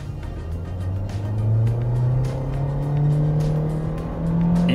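A 2024 Nissan Versa SR sedan with a CVT, in Sport mode, accelerates at full throttle. The engine drone is loud and steady and climbs smoothly in pitch without gear-change breaks, with no speech.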